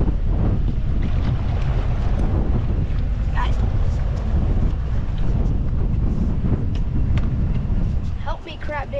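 Strong wind roars constantly, buffeting the microphone with heavy low rumble, while water and a boat sound in the background during crab trapping and a voice talks faintly.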